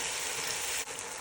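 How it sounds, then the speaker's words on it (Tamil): Whole tomatoes frying in oil with mint and coriander, a dense, even sizzle with no pauses, close and moderately loud, with one brief faint knock near the end. "இப்படி எண்ணெயிலேருந்து வதங்க விடுறேன்."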